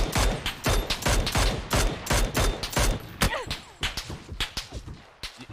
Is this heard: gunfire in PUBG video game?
yes